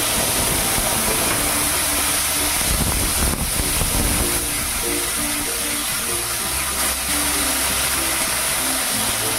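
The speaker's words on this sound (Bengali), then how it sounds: "ফোড়নটা ভাজা হয়ে যেতে আদা আর কাঁচা লঙ্কা বাটা দিয়ে দিচ্ছি।" Steady hiss of something frying in hot oil, with a brief louder sizzle burst partway through as ginger and green chili paste hits the pan after the tempering spices.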